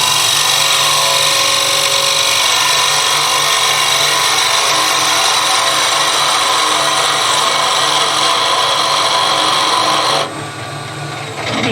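A skew chisel taking a light cut across the end of spinning wood on a lathe, a loud continuous hissing, rasping scrape that runs steadily for about ten seconds, then drops off abruptly as the tool lifts away.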